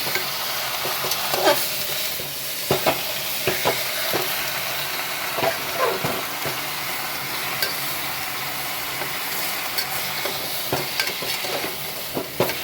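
Potatoes tossed into a spiced chicken curry in a pan, frying with a steady close sizzle while a spoon scrapes and stirs in irregular clacks and knocks throughout.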